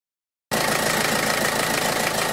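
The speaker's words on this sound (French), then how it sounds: "on démarre le véhicule et on contrôle" A Peugeot 307 HDi diesel engine is started after an oil change. After half a second of silence, the engine's steady, gruff running sound cuts in abruptly and carries on at a constant level, close to the listener.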